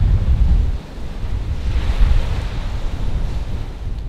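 Sea waves surging against the rocky shore near Fort de Bertheaume by Brest, a steady broad roar of surf with heavy wind buffeting the microphone, loud and continuous with no voices.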